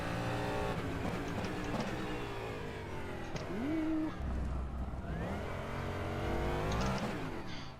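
A DPi prototype race car on default setup lapping Spa in rFactor 2, its engine revving loud and continuous, pitch climbing and dropping sharply through gear changes.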